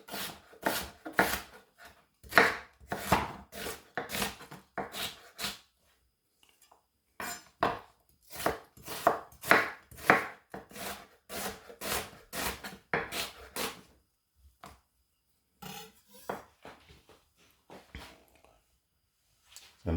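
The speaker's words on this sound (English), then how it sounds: "You can cut them in whatever shape you want" Broccoli is cut with a knife in rapid, rhythmic runs of strokes on a board, close and distinct, broken by short pauses between bursts.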